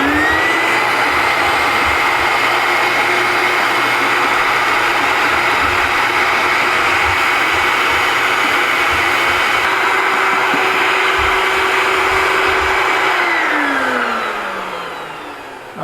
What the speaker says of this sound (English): I got my bucket vacuum here